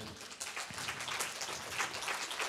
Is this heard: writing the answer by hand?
no